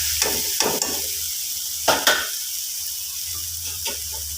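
Spice powders are stirred into tomato masala frying in a pan for egg curry, with a soft sizzle under several close scraping strokes of a spoon against the pan.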